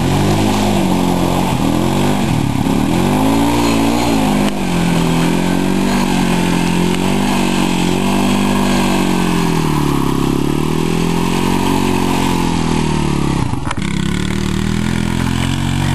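An off-road vehicle revs and rattles while mudding, its engine roaring loudly and continuously with rising and falling revs and a rough, vibrating rattle, close up.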